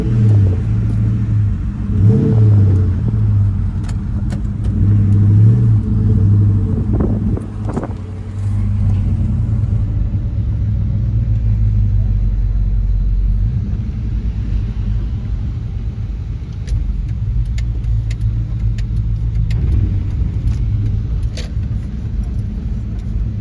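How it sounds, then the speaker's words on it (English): Two Ford Mustang GTs cruise together with a deep, steady V8 rumble close by, swelling slightly as they pull along, with wind buffeting throughout. "His and hers Mustang GTs cruising together."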